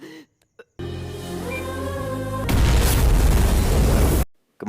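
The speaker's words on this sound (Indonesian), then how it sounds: "oven yang dipenuhi gas pun langsung meledak" A gas-filled oven explodes in a film scene, a harsh tonal rumble building into a loud, dense roaring blast that sustains before cutting off abruptly.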